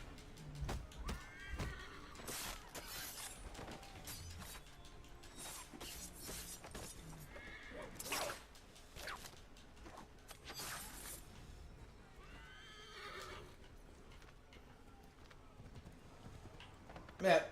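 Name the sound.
horse neighing and hooves in Assassin's Creed III video game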